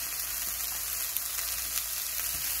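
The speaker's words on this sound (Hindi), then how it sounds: "और इसको अच्छे से फ्राई करेंगे" Paneer and corn filling seasoned with chaat masala, chilli and amchur powder fries in a pan, giving a steady, even sizzle close by with faint scattered crackles and no voices.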